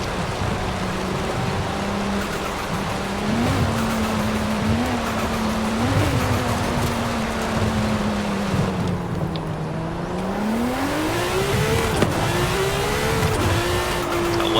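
Lamborghini race car in Forza Horizon 5 driving with a steady loud engine drone that rises and falls through gear changes, revving higher toward the end, continuous and close with no talk.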